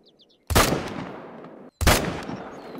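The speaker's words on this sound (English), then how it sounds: "at what point do I just pull out those 30-06 M1 Garand and let it rip?" Two loud, close M1 Garand rifle shots (.30-06) fired in the Hunter Call of the Wild hunting game, each a sharp broadband crack followed by a long rolling echo tail, roughly a second and a quarter apart.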